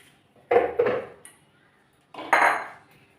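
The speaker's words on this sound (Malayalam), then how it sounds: "ജ്യൂസ് മിഷയിൽ മാങ്ങയെല്ലാം മുറിച്ചത് ഇട്ട് വെക്കാം." Cut mango pieces drop into a juicer mixer jar, giving two quick close clunks followed by a third after a short pause, with near silence between.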